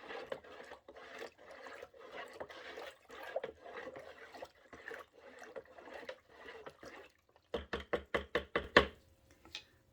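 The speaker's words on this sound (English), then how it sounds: "And I have to get a spoon, stir that up." A spoon stirs about a cup of salt into water in a container: faint, rhythmic scraping strokes repeat steadily, then give way to a quicker run of sharp, louder clinks near the end.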